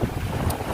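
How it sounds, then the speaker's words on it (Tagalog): Strong wind at the seaside in Baganian, Tabina, Zamboanga del Sur, roaring steadily across the microphone as a dense, full buffeting rush with a faint wash of surf beneath, close and loud, with no talking. "Napakalakas ng hangin dito"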